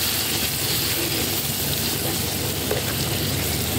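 Tomatoes fry in a pan for okra with meat, giving a steady, dense sizzle that holds at an even level throughout, close and continuous with no talking over it.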